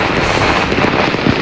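New Year fireworks bursting in a dense, continuous barrage, loud crackling and booming blasts overlapping with no pauses.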